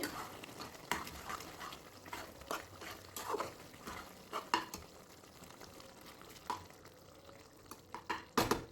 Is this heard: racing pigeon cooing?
no